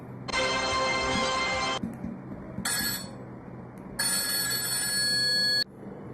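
A telephone bell rings in three separate bursts with short silent gaps between them, a loud bright electronic trill for a phone-a-friend call in a quiz-show spoof.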